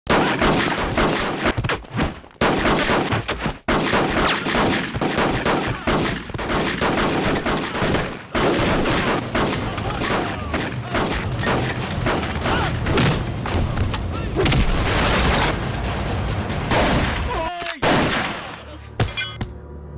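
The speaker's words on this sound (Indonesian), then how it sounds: "di tengah baku tembak yang masih berlangsung" Dense, sustained video game gunfire fills a gang shootout, with rapid overlapping shots and booms continuing almost without pause, loud and close throughout.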